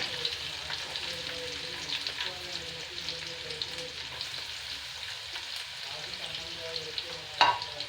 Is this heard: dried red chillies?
yes